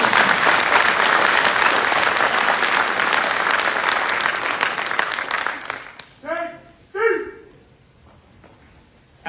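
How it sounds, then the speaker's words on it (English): Audience applause for the winning drill and ceremony squad at a Drill Sergeant Academy graduation, a loud sustained wash of clapping that fades after about six seconds, followed by brief talk. "Please join me in a round of applause for the winning squad of the drill and ceremony competition."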